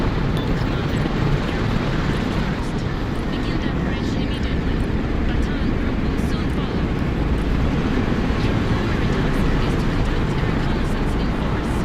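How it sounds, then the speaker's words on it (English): Loud, steady rotor and engine roar of a helicopter in a Broken Arrow military game cinematic, a dense continuous rumble filling the whole stretch without a break. "The helicopter is so loud"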